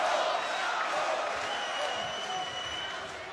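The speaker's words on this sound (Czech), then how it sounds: "A od začátku slyšíme ten skandovaný potlesk." Arena crowd at a Gábor Boraros vs Mohamed Sayah fight, a dense wash of crowd noise and applause with a chanted, rhythmic edge, steady and loud throughout, with no clear talk.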